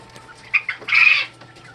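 Young quail in a brooder give a few short chirps and a brief louder trilling call, close and alone over a faint low hum.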